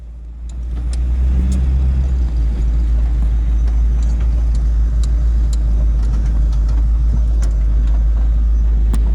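A light Jeep descends a snowy off-road hill on a winter run, its engine a steady, loud low rumble throughout with faint crunching and clatter above it and no talk.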